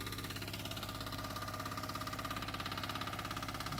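A homemade walk-behind tractor with a potato digger chugs along in a fast, even putter, the small engine steady and fairly faint throughout without any talk.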